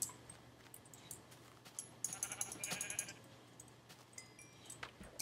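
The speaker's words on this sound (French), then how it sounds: "Oh, des moutons." Sheep in a video game bleat a few times over a quiet background, with one louder burst of calls in the middle, fairly faint overall and with no talk.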